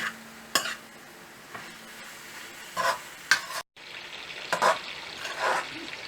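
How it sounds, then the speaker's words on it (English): Beef steak pieces for a pepper fry stir and sizzle in a pan, with several scraping stir strokes cutting through a steady frying hiss and one brief pause. "Add the fried meat pieces and mix it and allow it to cook in there."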